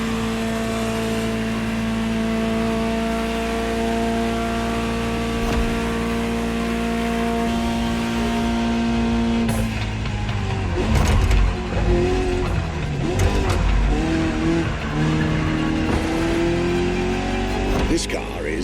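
The engine of a Ferrari 288 GTO in The Crew Motorfest hums low at first, then revs and roars hard in the second half, with a voice talking over it.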